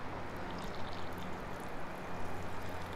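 Water poured steadily into a ceramic engobe mixture, a continuous soft trickling wash at close range with no talking.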